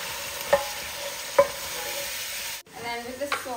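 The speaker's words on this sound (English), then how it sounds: "Let's just give this a stir while we do that." Utensil stirring chicken pasta sauce with chili and spices in a pan, a few soft scrapes and clinks over a quiet sizzle, close and alone.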